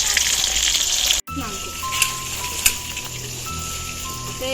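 Fish pieces fry in a kadai with a loud continuous crackling sizzle, punctuated by a couple of sharp pops and faint clinks, with a person speaking softly at times.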